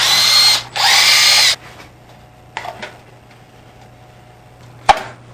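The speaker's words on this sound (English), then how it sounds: "Screwdriver." A powered screwdriver removes bolts from a motorcycle seat in two short, close whirring bursts, followed by a few light clicks and knocks of handling in a quiet room.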